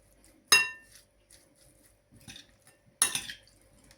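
Chicken gizzard salad being tossed in a bowl, giving two sharp clinks of utensil against dish separated by quieter scraping and shuffling, with near silence between.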